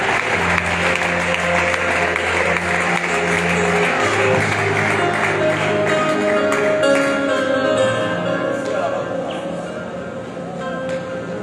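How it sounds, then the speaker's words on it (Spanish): A church congregation applauds steadily for a long stretch, with sustained musical tones running underneath. The clapping eases slightly near the end. "Fuerte el aplauso para Dios"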